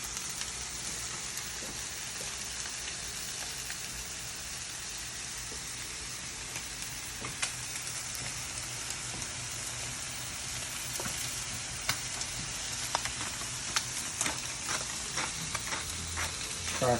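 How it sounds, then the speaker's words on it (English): Soup in a pot on the stove is given a stir while it sizzles steadily, with a few soft scrapes of the spoon heard over the constant bubbling hiss. "Give our soup a little stir."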